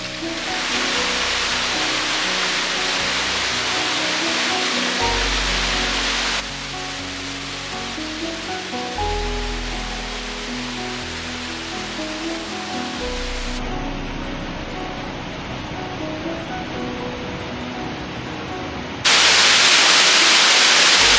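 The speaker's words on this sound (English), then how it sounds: "The force of the water just creates all this wind" Rushing mountain water at Poço do Inferno in Portugal's Serra da Estrela, a steady, loud, hissing roar like a close waterfall that shifts abruptly in level and brightness, with no voices.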